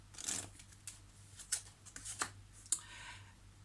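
Tarot cards being handled to draw a final card, with faint scattered shuffles, taps and brief slides spread irregularly across a quiet background.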